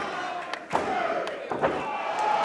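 Wrestling crowd in an MCW match, a dense roar of cheering from a large audience with a few thuds and a rising swell, commentary voices heard over it.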